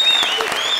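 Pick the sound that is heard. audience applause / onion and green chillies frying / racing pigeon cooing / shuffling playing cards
audience applause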